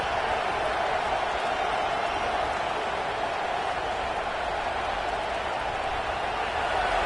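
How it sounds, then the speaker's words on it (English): A large stadium crowd at a Michigan at Nebraska game roars steadily in the distance, a constant wash of broadband noise with no breaks or distinct voices. "This crowd bringing the energy and noise early."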